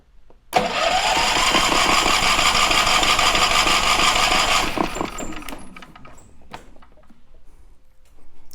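A gasoline generator that has been sitting unused, its carburetor just drained, cranks in a loud, sustained burst for about four seconds without catching, then falls quiet with faint mechanical clatter.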